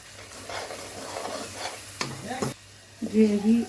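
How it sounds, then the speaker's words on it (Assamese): Ground paneer butter masala gravy cooking in oil in a pan, a soft continuous sizzle under brief stirring scrapes, with a sharp clatter midway and a voice speaking near the end. "গ্ৰেভিখিনি তেলটো ওলাই নহ'লে ভাজি থাকিব।"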